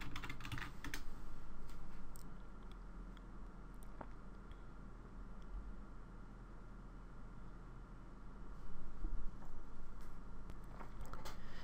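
Password being typed on a computer keyboard in Linux Mint 16 Cinnamon, a steady run of quick soft keystrokes close to the mic over faint background hiss, without pauses or voices.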